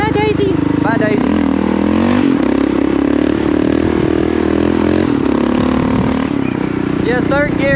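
A Kawasaki KLR650 motorcycle pulls a wheelie in third gear on a hill climb, its engine roaring loud and sustained under load, with voices shouting over it at the start and end.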